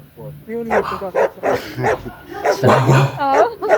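A person imitates a dog, giving a run of yappy barks and whines in a voice, with short bursts of sound filling most of the moment.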